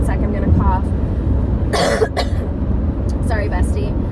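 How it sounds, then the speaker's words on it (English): A person coughs once, a short loud burst in the middle of a steady background hum, with talking before and after. "one sec, I'm gonna cough."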